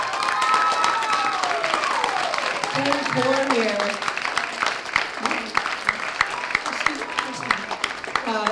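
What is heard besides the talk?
audience applause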